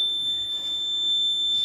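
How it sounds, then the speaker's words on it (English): A fire alarm sounds as a steady, loud, high electronic tone that holds unbroken through the whole moment, with no talking over it. "Oh, that was a fire alarm"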